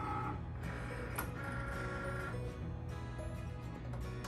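A Cricut cutting machine draws in a mat of glitter cardstock, giving a steady close mechanical whir with a faint motor hum and a few light clicks, all without talk.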